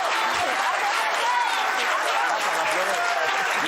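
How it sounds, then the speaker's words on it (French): A studio audience on a French television talk show claps in a steady, even wash of applause while voices speak over it. "L'applaudissez."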